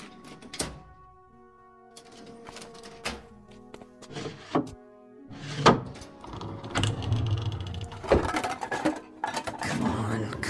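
A door opening in a radio drama about a break-in at an unlocked place, heard as a few thunks and knocks followed by shuffling handling sounds, near and moderately loud with no talk.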